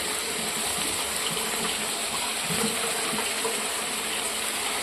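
Water swished through a mixer jar to rinse out ginger-garlic paste, then poured into a pan, heard as a steady, close gushing rush of liquid throughout.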